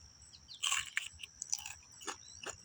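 Crisp bites and chews of a crunchy orange cherry bomb pepper, fresh from the garden on a sunny day, give several sharp close crunches in quick succession with no talk over them.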